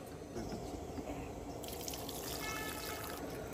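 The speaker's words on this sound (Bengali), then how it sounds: "নারিন এখানে ডাল ধুচ্ছে" Lentils being washed in water by hand, a steady trickling and dripping wash of water under faint outdoor background noise, continuous and fairly quiet throughout.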